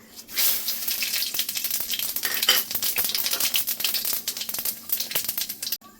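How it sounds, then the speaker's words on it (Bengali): Cumin seeds and bay leaf hitting hot mustard oil, breaking into a loud, bright crackling sizzle with sharp popping spits that holds steady throughout before cutting off near the end. "তেল গরম হয়ে গেছে, সর্ষের তেল দিয়েছি। ফোড়নে দিয়ে দেবো জিরে তেজপাতা"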